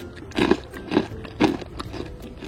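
Crunchy no-bake Eid cookies bitten and chewed up close, three sharp crisp crunches at an even rhythm followed by softer chewing crackles, with no talking.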